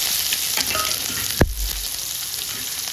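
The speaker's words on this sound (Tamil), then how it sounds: "போட்டு நல்லா வறுத்ததுக்கப்புறம் பெரிய வெங்காயம் கொஞ்சமாக போட்டுக்கலாம்" Bitter gourd and onion fry in a pan with a constant, fairly loud sizzle. One sharp knock from a utensil or the pan sounds partway through.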